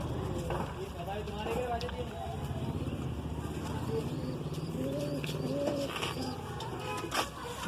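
An Andhra-breed pigeon coos softly among other birds in a loft in Aurangabad, under nearby chatter and some background traffic.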